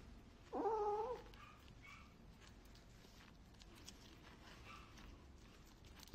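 A single short cat yowl rises briefly near the start, then faint background noise and soft shuffling follow.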